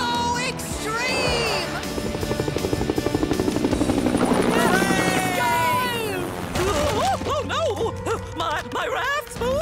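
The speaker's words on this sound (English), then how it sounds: "Next stop, the ultimate copter." A cartoon helicopter's rotor chops rapidly and loudly amid a busy animated rescue scene with music and excited voices talking over it.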